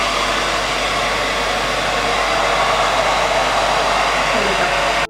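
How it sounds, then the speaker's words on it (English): A hair dryer fitted with a diffuser runs on its lowest speed and heat setting, a loud, steady airy whoosh held for several seconds before cutting off abruptly at the end. "So I have my handy diffuser."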